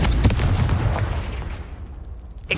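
A Confringo blasting spell fired in Hogwarts Legacy, a loud burst with a booming impact that decays into a fading rumble, followed by a second sharp pop near the end.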